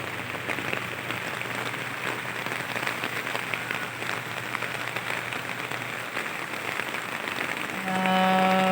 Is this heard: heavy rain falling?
yes